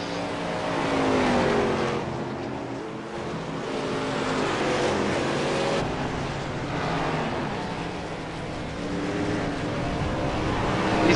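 A Supercars-style race car (car 14) tears through a qualifying hot lap, its loud engine shifting up and down through the gears as it strains around the circuit, with no talk over it.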